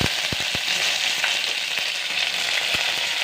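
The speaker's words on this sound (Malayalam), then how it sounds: "കടുക് പൊട്ടി കഴിയാൻ നേരത്തെ കുറച്ച് കറിവേപ്പില," Curry leaves added to hot oil after mustard seeds have popped sizzle in a steady, bright hiss, with a few sharp crackles early on, heard close without talk.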